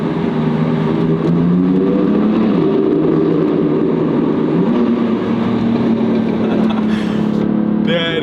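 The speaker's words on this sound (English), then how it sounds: "we need a little sound check of that S55 engine." A BMW M3 Competition with its S55 engine revs inside a tunnel, a loud, sustained drone whose pitch climbs, dips and swells again across several throttle blips, echoing off the walls with no talk.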